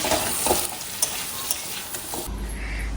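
Pointed gourd pieces frying in hot oil in a home kitchen pan, a soft close sizzle with scraping stir strokes, ending in a low rumble.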